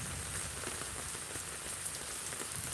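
Thunderstorm rain pouring in the eastern Miraj area, an unbroken, even wash of drops pattering on surfaces, close and steady throughout, with no talking.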